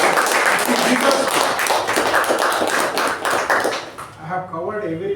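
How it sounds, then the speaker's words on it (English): Audience at a meeting gives a loud, sustained round of dense clapping that tapers off near the end, where a voice begins speaking. "Let's give her a very, very good round of applause."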